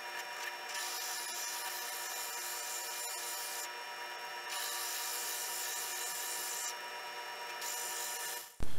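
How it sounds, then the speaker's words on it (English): Steady, continuous rasping of sandpaper rubbed back and forth on a wooden knob, close and fairly loud, with a few brief shifts in tone and no talking. "it's time to do a little sanding"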